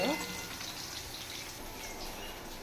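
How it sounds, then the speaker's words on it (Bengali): Eggplant and potato frying in a pan for Bengali mung dal with fish head, a quiet, even sizzle with a soft crackle near the start, faint and steady throughout. "এই যে দেখো একটু বেগুন আর আলু ভাজা করছি"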